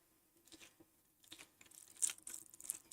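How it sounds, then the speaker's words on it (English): Crispy cooked food being bitten and chewed close to the microphone, a series of faint, irregular crunches that grow louder toward the end, with no talking. "Can you hear the crunch?"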